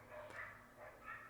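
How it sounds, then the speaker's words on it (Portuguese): Dogs bark a few times from a distance, soft short yelps faint in the background. "tem uns cachorros latindo aqui para animar"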